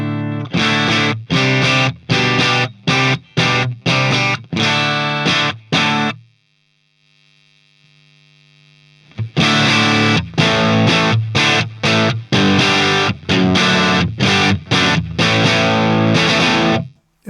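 Heavily distorted electric guitar on the bridge pickup through a Dr.Z Remedy amp, loud chugging rock riffs in short punchy bursts, broken by a sustained ringing chord before the riffing resumes.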